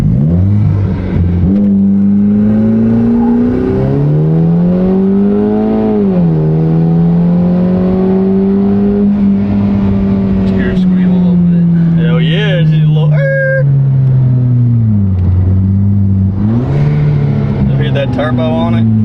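A Volkswagen GTI in sport mode launches hard using launch control, its engine revving loud and close, pitch sweeping up through the gears with brief dips at each shift, heard from inside the car.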